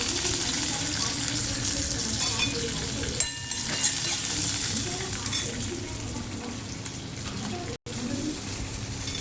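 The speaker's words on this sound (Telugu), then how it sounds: "పల్లీలు వేగినాయి. ఇందులోనే పచ్చిమిర్చి వేసుకుందాము" Peanuts and green chillies frying in a pan, a steady close sizzle with occasional stirring clicks and scrapes throughout, one brief dropout near the end.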